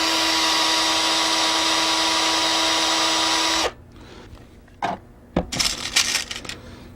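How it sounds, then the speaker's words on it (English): A power drill bores a screw hole into the ties of model railroad flex track, whining at a steady pitch for several seconds before stopping abruptly, then a few short clicks and handling knocks follow. "then drill the hole for the next screw"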